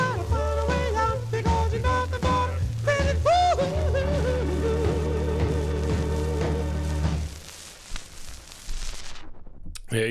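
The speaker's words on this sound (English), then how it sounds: "That's the sound of the Master Tones there." A 1954 doo-wop vocal group record by the Master Tones on the Bruce label plays: layered harmonizing voices over a steady low bass backing, dropping to a quieter, thinner fade near the end.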